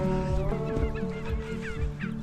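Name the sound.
turkeys calling at a turkey farm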